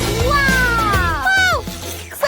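A cat meows in a home-kitchen cooking-challenge setting: one drawn-out, wavering meow rises and then falls over about a second and a half, close and fairly loud above a low background hum.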